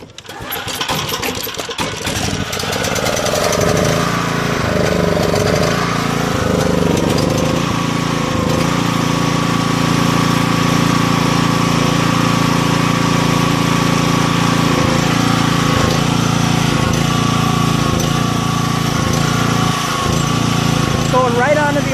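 A Makita G2400R portable generator fitted with an aluminum cover starts up and runs at a steady, loud drone with a constant hum and engine harmonics, continuing close and uninterrupted throughout.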